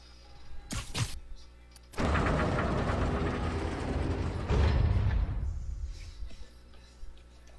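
A video game train in Spider-Man: Miles Morales rumbles past in a steady, loud roar for several seconds, preceded by a brief burst, then fades away leaving faint ambient tones.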